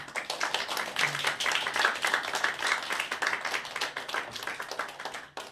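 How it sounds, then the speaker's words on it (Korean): Congregation clapping in a Korean church service, a dense sustained round of hand claps filling the room, moderately loud and steady throughout. "박수 한번 할까요?"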